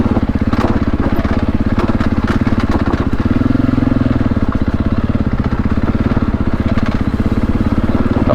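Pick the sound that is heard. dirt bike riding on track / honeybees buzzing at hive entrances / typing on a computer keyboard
dirt bike riding on track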